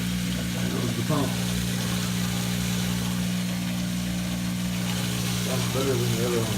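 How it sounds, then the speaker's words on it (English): The drain pump of a Whirlpool Duet HT front-load washer hums steadily, a low continuous motor drone held at constant level throughout, with a person talking over it. "There goes the pump."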